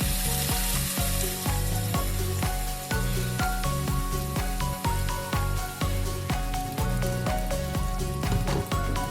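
Ground spice paste frying in a pan for a Bengali bori curry, giving a dense, continuous sizzle with stirring scrapes, loud and close, with rhythmic music playing underneath.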